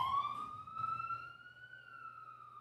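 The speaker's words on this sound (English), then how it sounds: "You hear the sirens in the background" A police siren wails faintly in the distance behind a city street, a single steady tone slowly rising and then gently falling in pitch.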